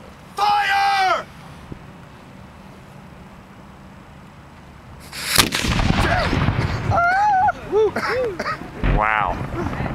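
A cannon fires during a historical bombardment reenactment, one loud boom heard after a shouted command, followed by excited voices and cheering.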